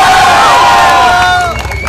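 A live concert crowd in Jaipur roars with loud cheering and whistles, many voices shouting together at full volume before easing slightly near the end.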